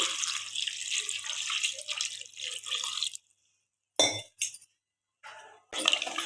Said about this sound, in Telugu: ఇప్పుడు ముక్కలు మునిగేంత వరకు వాటర్ వేసుకోవాలి.